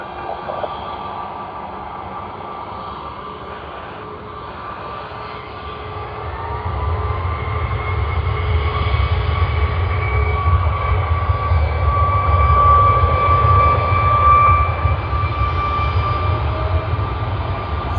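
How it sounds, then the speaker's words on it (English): Fiji Airways aircraft taking off from a Sydney Airport runway, a distant engine roar that swells and holds steady, with faint whining tones above a low rumble. "Fiji Airways first departure out of Sydney for today."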